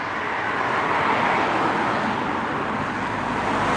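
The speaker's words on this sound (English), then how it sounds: "So many cars. Very noisy today." Steady roadway traffic with cars passing continuously nearby during an outdoor dog walk, a dense, even wash of noise that stays loud throughout with no talk over it.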